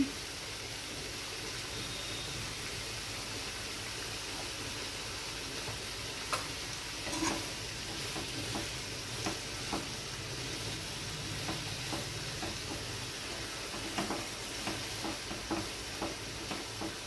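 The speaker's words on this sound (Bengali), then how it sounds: "লবণটা দিয়ে একটু নেড়ে দিয়েছি" Ash gourd curry with salt is stirred in a pan, a soft continuous sizzle with occasional faint spoon taps and scrapes, close but fairly quiet.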